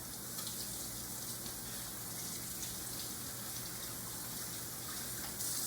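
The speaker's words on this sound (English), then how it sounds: "you can stick them back under the water and wash all that soap off." Steady running tap water splashes continuously over hands, a close, even rushing sound with no talking.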